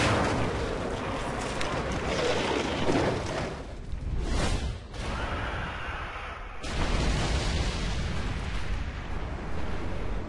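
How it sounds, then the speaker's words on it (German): Gunfire and blasts in the video game Resident Evil 5, a dense, loud stretch of rumbling shots and explosions that dips briefly midway and then resumes at full intensity. "verschießen wir die letzte Munition"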